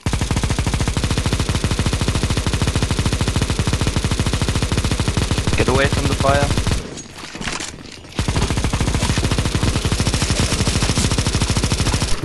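Sustained rapid automatic gunfire in a CS:GO zombie escape match as players shoot the boss: loud, continuous bursts that break off briefly near the end, then resume.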